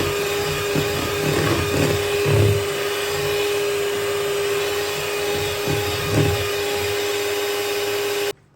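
An electric mixer whips cream for a no-bake, egg-free cold dessert. Its steady motor whine runs unbroken and fairly loud for the whole stretch, then cuts off abruptly at the end.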